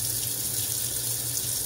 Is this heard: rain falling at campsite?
no